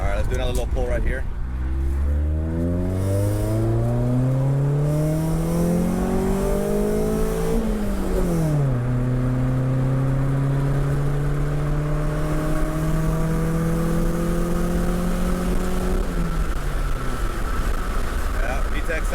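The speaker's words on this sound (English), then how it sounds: "VTEC sounding good" A Honda CRX engine winds up hard through a long pull, pitch climbing steadily before a sudden shift to a sharper, higher howl as VTEC engages, then holding and falling away, loud and close from inside the car.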